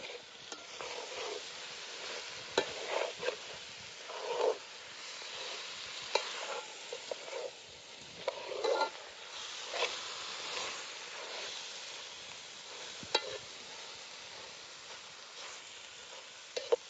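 Soaked dal being stirred in a hot pan, a soft, steady sizzle broken by intermittent scraping and clinking from the spoon, fairly quiet and close, with no talking.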